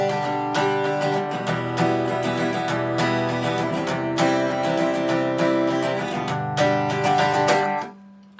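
An acoustic guitar playing chords with a full strumming pattern for the Irish ballad Sean South from Garryowen: steady, dense strums ring close and loud for about eight seconds before a final chord fades, with no voice.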